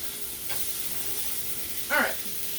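Garlic parmesan crusted chicken sizzles in a hot skillet, a steady low frying hiss with a faint scrape near the start and a louder clatter of movement near the end.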